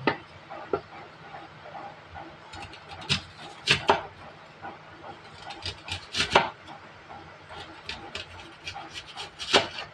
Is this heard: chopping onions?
yes